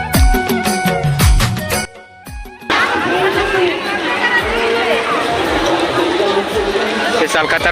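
Big crowd at the Sihawa fair, a dense babble of many voices and footsteps close by, with music playing in the opening seconds before the hubbub takes over.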